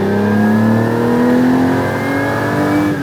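A Ferrari 250 SWB V12 engine revving loudly and steadily, close by, its pitch rising smoothly through the clip with no other sounds.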